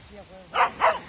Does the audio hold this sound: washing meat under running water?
no